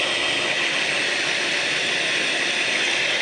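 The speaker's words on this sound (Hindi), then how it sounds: "अब तीनों अंडों को हमने अच्छे तरीके से जो है बीट करते जाना है।" An electric beater whips three eggs with sugar, producing a steady, loud, unbroken whirring hiss with no voices.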